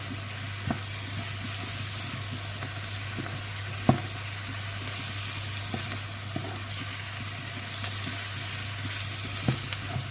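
Spiced food stirred in a pan for a vermicelli thieboudienne-style dish gives a steady low sizzle, with a few faint scrapes and one sharper knock of the utensil, quiet and without voices.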